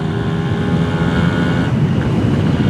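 A Suzuki X4 motorcycle on a ride gives a loud, steady engine drone under heavy wind rush. The engine tone shifts partway through, and no one speaks.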